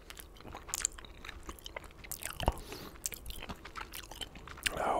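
Close, crisp bites and wet chewing of a Tombstone supreme pizza fresh from the oven, with irregular crunches and a sharp bite near the middle, alone with no talk.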